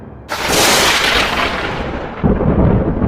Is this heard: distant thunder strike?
yes